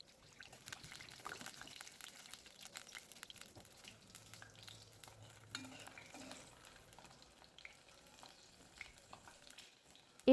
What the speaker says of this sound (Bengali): দিয়ে দিচ্ছি 2 থেকে 3টি শুকনো মরিচ, দিয়ে দিচ্ছি 4-5টি রসুন। এগুলোকে হালকা তেলের সাথে ভেজে নিচ্ছি 2 মিনিটের মতো।